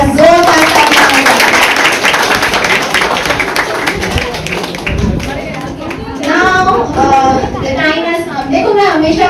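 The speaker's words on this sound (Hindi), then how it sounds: "तो हमारे सारे परफॉर्मेंस के लिए अगेन एक बार जोरदार तालियां।" An audience at an institute's anniversary celebration claps for the performances. A loud burst of clapping comes first, then it thins as children's and adults' voices rise and chatter over it.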